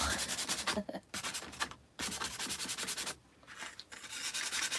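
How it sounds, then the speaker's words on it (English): A sanding block rasps back and forth over chalk-painted surface in repeated scratchy strokes with short pauses between passes, close up. "I'm into the sanding thing now."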